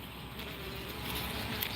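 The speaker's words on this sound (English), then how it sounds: "We're gonna aggravate some bees and probably get the crap stung out of me." Agitated bees pour out of a beehive with oil tray bottom boards, making a dense, continuous high buzz that swells slightly while staying close and steady.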